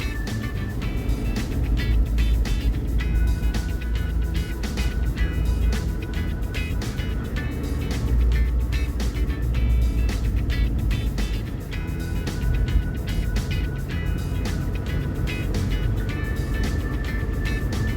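A car drives along a coastal road toward Gold Beach, its steady engine and tire rumble continuous and fairly loud from inside the vehicle, with no talk.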